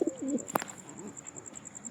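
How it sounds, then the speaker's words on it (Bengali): A breeding pair of pigeons cooing softly and close by, with a low warbling coo at the start, a sharp flutter or click in the middle, and quieter coos after. "পুরো মস্তিতে পায়রা।"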